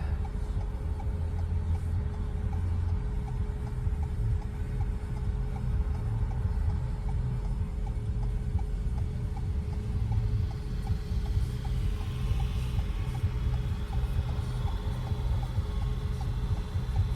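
An old SUV engine idles very high, a continuous low rumble with a steady hum, without pause throughout, fairly close and unchanging in level.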